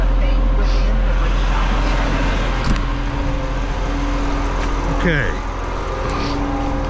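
Auto race coverage playing from a phone inside a propane delivery truck cab, a continuous engine drone with a car whining past near the end, under a loud low rumble and a brief spoken word.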